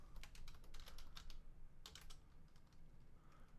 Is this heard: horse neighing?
no